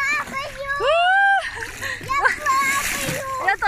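Water splashes and sloshes loudly as a child swims in shallow sea water, with excited children's voices talking and shouting over the continuous splashing throughout.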